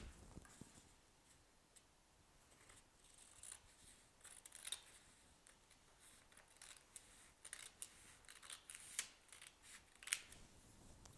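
Scissors snip through a folded sheet of paper while a snowflake is being cut, a string of faint, crisp clicks and short rustling cuts at an uneven pace, quiet and close.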